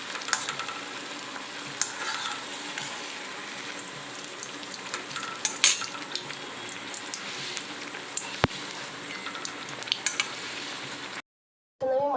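Palm-fruit malpua pancakes frying in oil, Bengali style for Janmashtami, crackle and sizzle with a constant close hiss dotted with small pops and spatters, ending in a brief silence.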